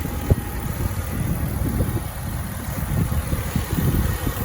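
A 2019 Ram 1500 4x4 with a 5.4-liter engine runs at a steady idle, a low continuous rumble with a single brief knock near the start.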